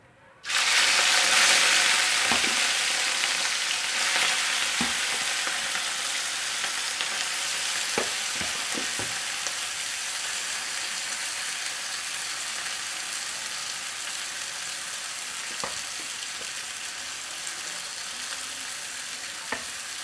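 Mutton keema frying in a hot pan gives a loud, steady broadband sizzle that bursts in at the start and then settles, with occasional clicks and scrapes of stirring.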